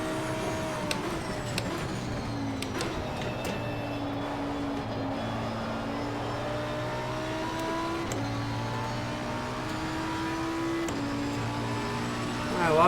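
A race car engine in Assetto Corsa Competizione, driven at night, drones steadily with rising and falling pitch as it shifts through gears, holding close and continuous before a brief surge of revving at the end.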